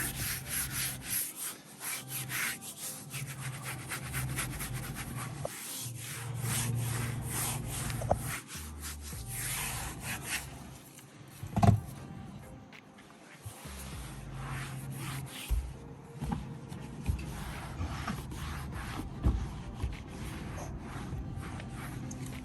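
A detailing brush scrubbing a car's interior, a continuous close rasping rub with rhythmic strokes and a few louder scrapes, heard alone.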